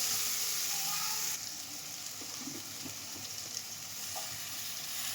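Lote shak leafy greens hit a hot frying pan with a steady sizzle and crackle, loud at first and then settling into a softer, continuous frying hiss with a few scattered pops.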